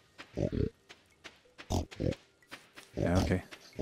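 Pigs in the farming game Stardew Valley give short oinks and grunts in quick bursts, mixed with game sounds, while a person talks over them.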